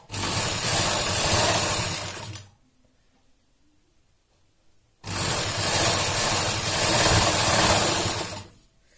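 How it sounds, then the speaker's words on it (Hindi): Sewing machine stitching bra fabric, two long steady runs of machine noise of about two to three seconds each, separated by a quiet pause. "यहां से हम यहां तक इसको स्टिच कर लेंगे।"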